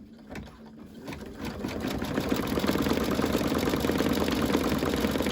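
An embroidery machine sewing a backing onto a planner or date book cover with green thread, running a fast, steady mechanical stitching rattle that starts after a brief pause and settles into a loud, even drone.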